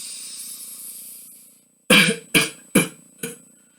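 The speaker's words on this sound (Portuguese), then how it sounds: "instrua o cliente a tossir fortemente" A patient in a respiratory therapy exercise coughs forcefully four times in quick succession after a deep breath, each cough sharp, loud and close, the last one slightly weaker.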